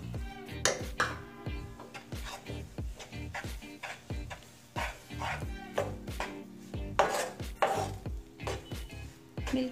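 A spoon stirs milk powder into a barfi mixture in a pan, giving a steady run of sharp taps and scrapes against the metal, close and fairly loud, with no talking.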